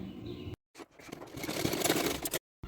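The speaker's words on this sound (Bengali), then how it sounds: "এবার হাতার সঙ্গে এভাবে প্লেট প্লেট করে সেলাই করে নিলাম" A sewing machine stitches a pleated ruffle onto a dress sleeve made from a saree, running in a short, dense whirring burst of about two seconds between brief silences.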